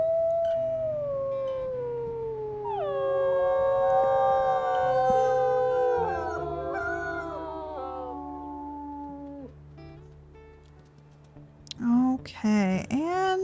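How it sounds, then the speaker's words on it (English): Wolves in WolfQuest howl together, long overlapping rising and falling calls layered for about ten seconds, loud and close, ending with a few short sharper yips. "We need to howl on this one as well."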